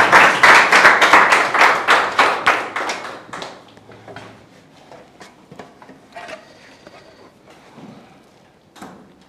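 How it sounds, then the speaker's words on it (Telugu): An audience gives a round of applause to welcome a professor at the start of a Bible college lecture: dense, loud clapping for about three seconds, then quickly thinning out to a few scattered claps. "let's welcome our professor with a grand round of applause"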